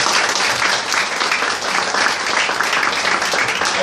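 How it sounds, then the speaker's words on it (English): An audience claps steadily throughout, a dense, even wash of applause at an event that neither swells nor fades. "So give them a round of applause"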